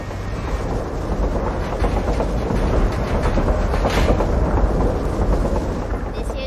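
A train rumbling along in Borderlands 2, a steady, loud, dense roar with a faint rhythmic clatter that continues without break for the whole stretch.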